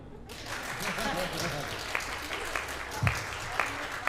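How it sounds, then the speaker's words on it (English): Audience clapping at a live rehearsal, a steady spread of applause with a few sharper individual claps standing out near the end, moderately close in a room. "Can you clap?"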